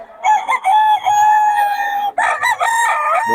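A Sweater gamefowl rooster crows loudly and close by, with two long strained crows, the second following a brief pause.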